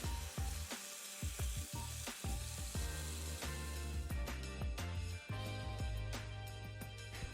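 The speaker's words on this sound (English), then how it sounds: "Add some cashews and saute it at medium flame." Cashews and onions sautéing in a pan over a medium flame for a restaurant-style makhni handi, with a steady close sizzle and repeated clatters of a spoon stirring against the pan throughout.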